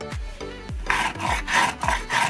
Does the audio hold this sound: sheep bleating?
no